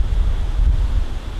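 Wind blowing strongly across an outdoor microphone, a steady low roaring rumble with buffeting gusts, loud and continuous without any talking.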